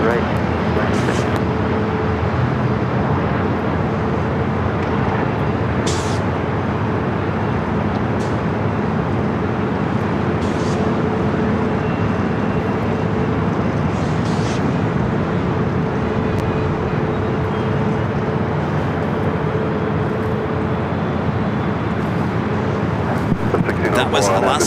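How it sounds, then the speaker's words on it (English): An Alaska SkyWest Embraer E175 jet at LAX gives a steady broadband roar that holds throughout, loud and sustained, with faint radio chatter and talk mixed underneath. "That was Alaska Skywest Flight 3330 coming up from Eugene, Oregon at E175."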